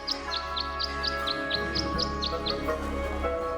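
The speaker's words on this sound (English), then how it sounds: "The birds seem to like it. They're even singing a little tune." Birds singing at a bird bath in the Tangle Tower video game, a regular run of a dozen bright chirps over soft background music.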